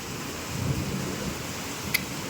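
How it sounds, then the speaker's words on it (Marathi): Steady heavy rain hisses close by in a constant wash, with a faint low rumble underneath and a brief sharp tap near the end. "चांगला पाऊस आला"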